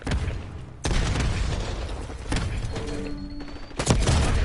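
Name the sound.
concussion grenade explosion in a video game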